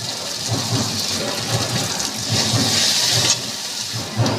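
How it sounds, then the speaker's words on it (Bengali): Water goes from a spice bowl into a pot of bhetki fish curry with yam and potatoes, a loud, close, continuous splashing and rushing pour that briefly swells before easing. "মশলার বাটি দিয়ে একটু জল আমি দিয়ে দিচ্ছি"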